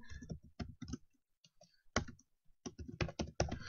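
Keys are typed on a computer keyboard in short bursts of close, crisp clicks separated by pauses, with no voices.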